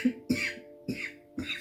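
A woman coughs four times in quick succession, short harsh bursts close up, with a faint steady hum behind.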